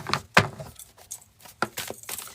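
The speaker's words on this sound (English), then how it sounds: "Quick shuffle for Taurus" Tarot cards being quickly shuffled, heard as irregular sharp snaps and flicks of card stock with brief gaps between them, close and without any voice.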